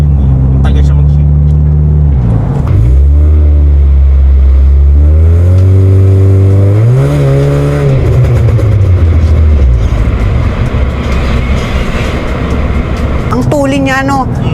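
A remapped Honda Civic FD 1.8 accelerates hard through the gears, its engine note climbing in repeated sweeps broken by quick shifts, loud from inside the car, with people talking over it.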